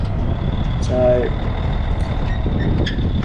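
An old International Acco 1830B truck with a faulty, stuck brake rumbles at low idle as it is maneuvered into a yard, a steady engine drone with a short tonal whine midway and faint background voices.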